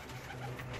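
A soft, low pigeon coo murmurs briefly from a coop, quiet and close, with faint background hiss.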